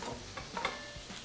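Pork chops frying in a pan, browning on one side for honey glazed chops: a close, steady sizzle with soft crackles and a few faint clicks, no voices.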